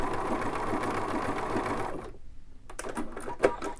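A Bernina sewing machine with the number 1 foot stitches a triple zigzag: a rapid, close mechanical whirr of needle strokes that stops abruptly, followed by a few light clicks and handling sounds.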